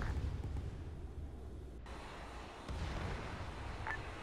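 A missile strikes its target in Arma 3, with a deep rumbling blast rolling out under continuous low battlefield noise, distant and heavy rather than sharp.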